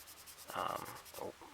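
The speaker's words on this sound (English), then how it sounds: "Now this is not wet sanding, this is just using the polishing cloths." Soft, brief rubbing strokes of a polishing cloth against a plastic 1:24 Aoshima K.I.T.T. model kit, two short dry passes close up with a quiet hiss between them.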